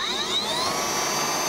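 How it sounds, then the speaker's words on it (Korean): A DeWalt DCM572 cordless leaf blower blows in a steady, loud, continuous whoosh with a high whining motor tone, heard alone up close. "디월트 충전 송풍기 DCM572 모델로 한번 불어보겠습니다"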